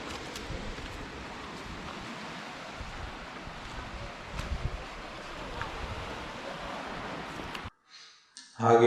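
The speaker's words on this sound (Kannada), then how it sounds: "ಅಲೆಗಳ ಸದ್ದು ಜಾಸ್ತಿ ಆಗ್ತಾ ಇರುತ್ತೆ" Sea waves break and wash along a Goa beach in a continuous surf roar mixed with heavy wind buffeting, with a few louder surges before the sound drops away at the end.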